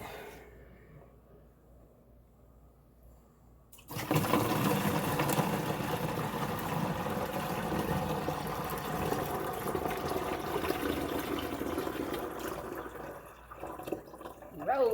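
Homemade rose water made from rose petals strained into a container, a steady liquid pouring and trickling sound that starts abruptly and continues close by, with talking over it.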